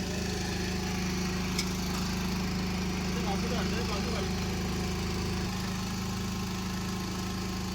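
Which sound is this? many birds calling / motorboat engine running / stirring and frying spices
motorboat engine running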